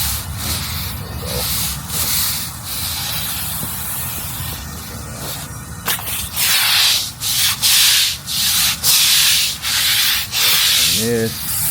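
An oil stain on a concrete driveway being scrubbed hard with a brush, with a continuous loud rasping rub that breaks into rhythmic back-and-forth strokes toward the end.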